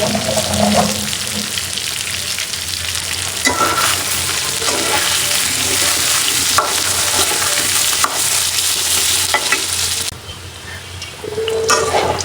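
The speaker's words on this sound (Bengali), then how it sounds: "দেখেন এখানে পেঁয়াজ ভাজা ভাজা হয়ে গেছে" Onions fry steadily in a pan with a bright, continuous sizzle and occasional stirring scrapes, loud and close, briefly dipping near the end.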